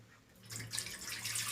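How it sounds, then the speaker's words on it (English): Water pouring into an idli steamer vessel, a steady close splash and trickle that builds after a quiet start and continues to the end. "Now we'll take water in the idli vessel, the steamer."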